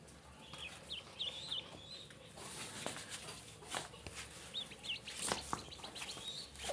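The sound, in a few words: small native ducklings calling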